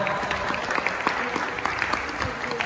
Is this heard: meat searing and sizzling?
no